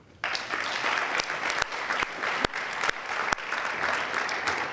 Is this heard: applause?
yes